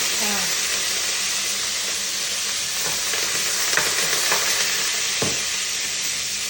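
Curry leaves and green chilies fry in hot oil in a pan for a stuffed eggplant (gutti vankaya) curry, making a loud, continuous crackling sizzle with occasional stirring clatter.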